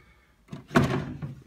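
A chest of drawers in a furnished apartment bedroom is opened, a single short wooden thunk and slide heard up close and alone.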